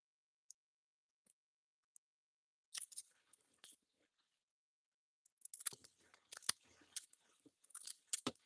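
Scissors snip through paper or card while making art cards, a few sparse isolated cuts followed by a quicker run of crisp, close snips in a quiet room.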